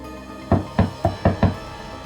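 Someone knocks on the door of a locked apartment, five firm hollow raps in an uneven sequence, close and distinct over a faint background hum, with no talking.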